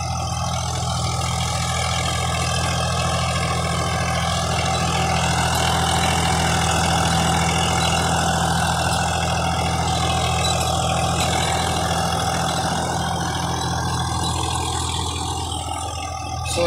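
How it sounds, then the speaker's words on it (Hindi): A Swaraj 744 FE tractor engine idles steadily in a field setting, a constant low rumble with a faint whine running unbroken throughout, loud and close with no voices. "देख लें भाई ट्रैक्टर बहुत ज़बरदस्त है"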